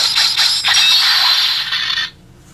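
A Ninninger sword morpher toy rattles with a loud, dense mechanical clicking and whirring for about two seconds before cutting off abruptly, leaving near silence.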